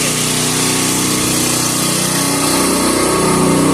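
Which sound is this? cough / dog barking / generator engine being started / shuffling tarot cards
generator engine being started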